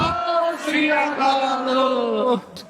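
Political rally crowd in Punjab shouting a slogan response to the Sikh call "Bole So Nihal," many voices chanting together in a loud, sustained collective cry that drops off abruptly.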